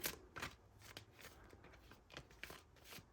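Tarot cards being shuffled by hand, a quiet series of soft riffling and slapping bursts in an irregular rhythm, close and alone with no talking.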